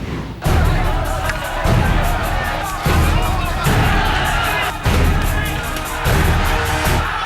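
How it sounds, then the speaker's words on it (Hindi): Violent crowd in Fatehpur, Uttar Pradesh: a loud, dense roar of many shouting voices with thuds and bangs, surging in repeated waves over several seconds. "ये भीड़ है"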